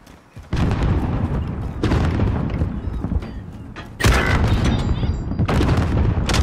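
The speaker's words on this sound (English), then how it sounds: "Another random grenade." Grenade explosions in the video game Call of Duty Modern Warfare: several loud, booming blasts in a row, each with a long rumbling tail, heard close and dominating the game sound.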